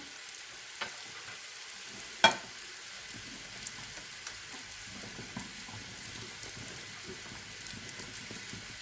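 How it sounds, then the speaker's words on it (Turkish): Soft, steady crackle of a date-shaped Arab dessert frying in oil, fine continuous sizzling with one sharp clink partway through and scattered light pops. "Böyle bunu da kızartacağım."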